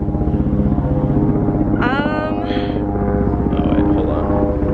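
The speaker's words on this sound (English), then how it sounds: "That's a helicopter." A loud helicopter with a continuous throbbing rotor drone dominating the scene, close and steady throughout, with a brief voice rising over it.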